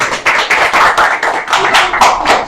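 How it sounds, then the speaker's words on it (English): A classroom of students clapping for a classmate, loud close rhythmic claps in quick repeated bursts lasting a couple of seconds. "Clap for her once again."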